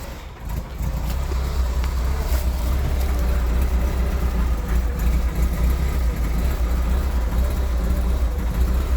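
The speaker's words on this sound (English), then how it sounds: "for a stainless steel exhaust, that's quite quiet" Steady low rumble of an Austin Ambassador Vanden Plas idling nearby with a new stainless steel exhaust, a deep, even, fairly quiet drone from the exhaust with no revving.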